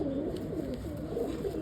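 Breeding pairs of Arunachal pigeons coo softly and steadily nearby, a low, throaty murmur that continues throughout the short moment.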